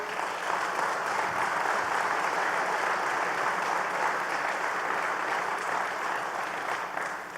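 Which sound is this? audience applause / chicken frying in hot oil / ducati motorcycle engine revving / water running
audience applause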